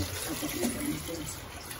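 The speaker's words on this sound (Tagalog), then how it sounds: "Bigyan na po natin siya ng tubig." Water pours steadily into a pot of milkfish and guava for sinigang, with a soft splashing trickle, close up, continuing throughout.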